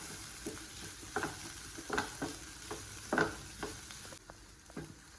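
Grated coconut and curry leaves stirred into cauliflower thoran in a pan, a soft sizzle broken by a regular series of spoon scrapes and taps against the pan, close and fairly quiet.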